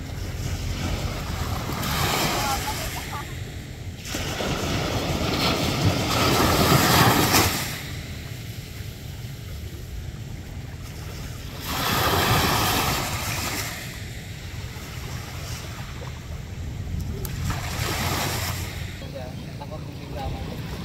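Sea waves surge and break in repeated swells every few seconds, with wind buffeting the microphone between the louder crashes.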